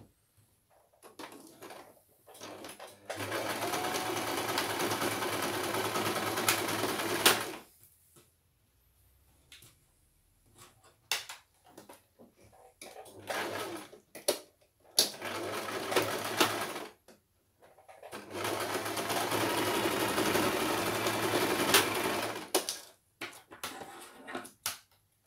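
A sewing machine runs zigzag stitches over overlapped, non-fraying hoodie fabric in two long bursts and several shorter ones, with quiet pauses and handling noises between them.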